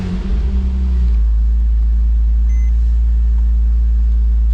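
A manual Porsche Boxster 987 with the 2.7 engine cranks and catches, settling into a loud, steady low idle rumble close by with no talk over it.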